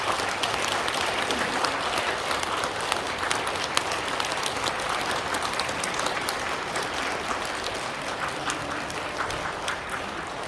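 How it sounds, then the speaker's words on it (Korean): Congregation applauding inside a Catholic church at a priest's farewell Mass, a dense, steady round of clapping that carries on evenly throughout without a break. "박수."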